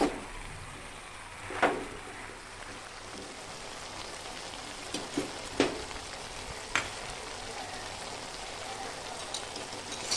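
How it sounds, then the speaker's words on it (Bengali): Chicken stew vegetables sizzle steadily in a pan, with a few sharp scraping clicks of stirring scattered through the clip. "মাঝে মাঝে আমি এটাকে নাড়া দেবো উপর নিচ করে"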